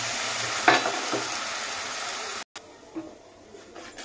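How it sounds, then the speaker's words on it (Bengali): Okra and shrimp sizzle in a pan with a little water as they are stirred, a steady close frying hiss with a sharp scrape early on, then a quieter, softer simmer after a brief cut; no talk. "এগুলো দিয়ে আমি অল্প জল দিয়ে কষিয়ে নেব।"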